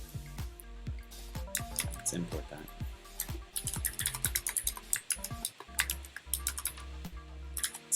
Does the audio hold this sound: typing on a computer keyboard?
yes